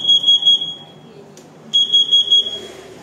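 A linked wireless smoke alarm sounds loud, piercing high beeps in a rapid rhythm, pausing briefly before the repeating bursts resume, close by indoors.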